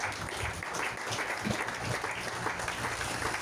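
A church congregation applauds together in sustained, even clapping that fills the space for several seconds, dense and steady without pause.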